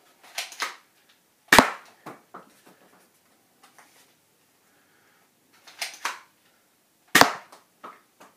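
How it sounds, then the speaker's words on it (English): A Newisland Space Wars toy blaster fires suction cup darts, giving two loud, sharp cracks several seconds apart. Quieter clicks of loading and handling come between the shots. "It's actually shooting the zombie green darts."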